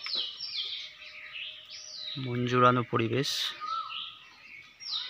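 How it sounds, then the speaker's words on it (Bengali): Birds chirping high in a banyan tree in a village at midday, a continuous bright twittering chorus that carries on while someone speaks briefly over it partway through. "বটগাছে পাখির কিচিরমিচির শব্দ"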